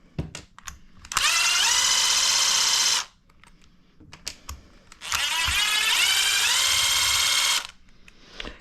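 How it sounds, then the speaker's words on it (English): Power drill backing screws out of an Arrma Granite Grom RC car, two sustained whirring runs of a few seconds each with rising pitch, separated by clicks and handling noises, close and loud. "we got to take all these little top screws out"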